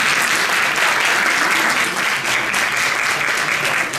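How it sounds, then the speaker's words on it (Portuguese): Loud, dense applause from an audience, continuous clapping filling the whole stretch without a break. "Podem bater palmas."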